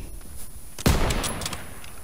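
Gunfire in the video game Call of Duty WW2, one loud close burst of shots partway through with echoing tail, over a low game ambience.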